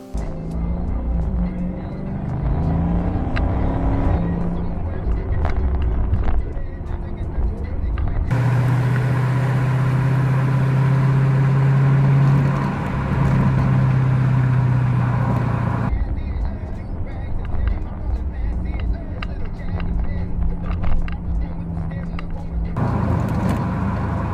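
Car driving on the road, recorded from an Akaso V50 Pro action camera, with steady engine and road rumble throughout and a stronger low drone in the middle section; no talking.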